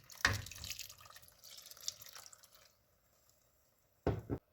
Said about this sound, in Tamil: மூன்று கப் நல்லா கட்டியான தேங்காய் பால் பாய்ச்சி கொள்ளுங்கள்